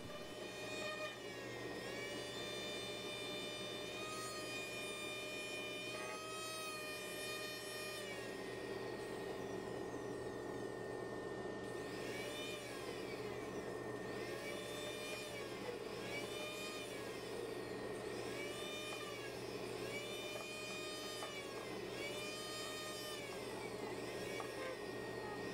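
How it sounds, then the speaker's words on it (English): Dental polishing wheel working the flat surface of a sintered zirconia crown, a steady high whirring drone with tonal overtones and repeated wavering pitch swells as the wheel presses and lifts, continuous and faint, no voices. "The flat surface is polished using a wheel like this"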